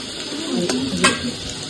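Chopped onion hits hot mustard oil in a wok and sizzles steadily, with a couple of brief scraping stirs of a spatula against the metal, close up.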